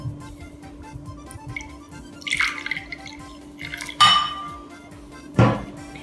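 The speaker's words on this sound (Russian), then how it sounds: "Добавляем воду." Water is poured into a bowl holding a few grams of yeast and a little sugar, heard as soft splashes and trickles with a few clinks of the bowl over about six seconds in a quiet kitchen.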